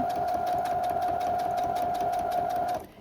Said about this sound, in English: And I keep my sewing speed low.